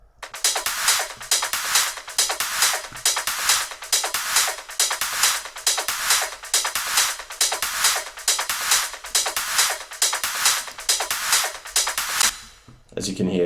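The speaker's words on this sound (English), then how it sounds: "it just creates a little bit of space between the claps, the techno hats, and the loops then." Electronic dance percussion from a techno track, steady looping claps and crisp techno hi-hats pulsing in a tight repeating rhythm, loud and dense, with no talking over it until a brief cut at the end.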